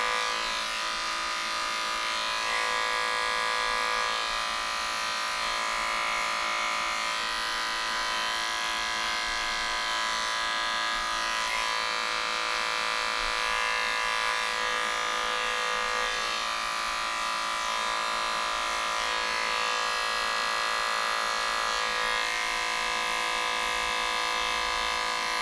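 An electric clipper shaving a badly matted small dog, a continuous steady motor buzz with a constant tone running the whole time at close range, no talking.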